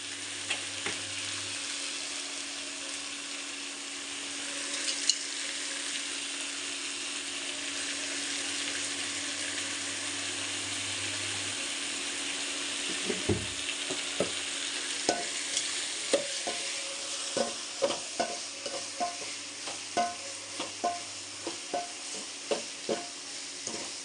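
Tomatoes sautéing with salt in a pan give a steady soft sizzle, with stirring clicks and scrapes that grow more frequent and rhythmic toward the end; no one speaks.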